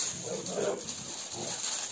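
A dog gives a short, low whimpering grumble, fairly faint, over a steady background hum.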